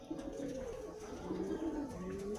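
Giribaj pigeons coo softly and close by in a home loft, a hen sitting on an egg, with several low rolling coos following one after another and no voices.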